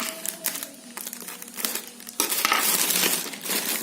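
Packaging for a Krisons 5.1 Bluetooth home theater system being opened: crinkling plastic and cardboard rustles, with a sharper burst of tearing and crumpling in the second half, close and fairly loud.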